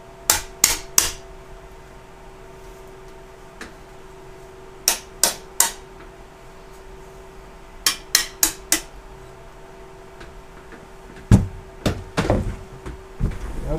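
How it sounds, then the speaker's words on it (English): Light hammer taps on a warped plexiglass panel of a cube computer case: sharp, crisp knocks in quick clusters of two to four, separated by pauses, close and clear over faint background hum. "Just a few light beats of the hammer should fix that."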